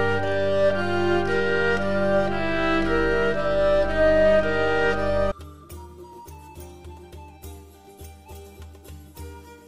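A hurdy-gurdy plays a bright, buzzing melody over a continuous drone for about five seconds, then shifts to a sparser passage of rhythmic, percussive buzzing strokes, close and unaccompanied.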